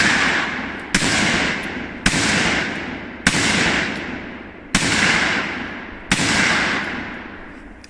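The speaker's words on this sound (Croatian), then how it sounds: "Evo, pa ćemo vidjeti kako ta puška radi sa tim kapacitetom spremnika." Six loud rifle shots from a Pietta Chronos .308 Win, fired at a steady pace about a second apart, each a sharp crack followed by a long echoing tail.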